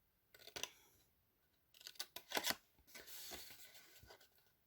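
Scissors cutting paper strips for a craft explosion box, a few close, quiet snips and crisp slicing bursts with brief rustles of the paper between cuts, no talk.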